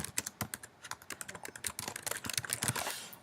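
Rapid, irregular clatter of keys on a computer keyboard, close and fairly quiet, with short bursts of keystrokes and no talking.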